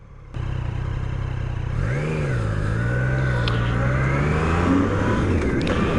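A motorcycle engine idles, then its throttle is blipped, revving up and back down once before settling into a steady, close rumble.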